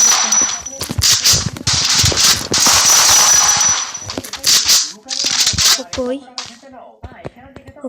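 Video-game gunfire cracks out in a fast flurry of sharp shots and clanks while someone talks excitedly over the action, trying to land a headshot.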